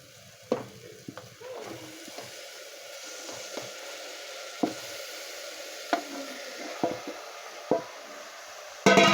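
Mutton pieces frying in hot oil with onion paste for a Tamil-style mutton kulambu, a steady sizzle punctuated by several sharp spatters and stirring scrapes, close and fairly loud, with no talking.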